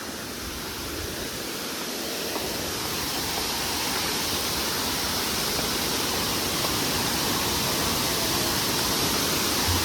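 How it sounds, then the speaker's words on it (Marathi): Ghonsari waterfall near Kankavli in the Konkan region roars as a dense, continuous wash of rushing water, loud and steady with no voices. "आणि हा आहे धबधबा"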